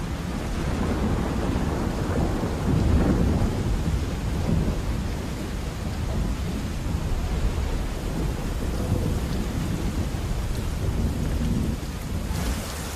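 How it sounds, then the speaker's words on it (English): A heavy thunderstorm rolls over a village in Brazil, with steady loud rain and deep rumbling thunder that swells and fades throughout. No voices are heard. "Far in the distance, the champion wrestler Chumin tries to brave the oncoming storm."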